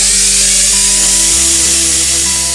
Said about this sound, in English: I'm going to use a little die grinder with a little die on the end. We're just going to create a groove around here for the plastic welding.